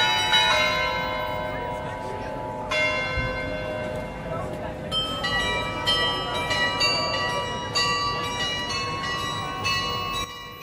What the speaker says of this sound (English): The 27 bells and 11 figures move on an hourly basis and normally ring for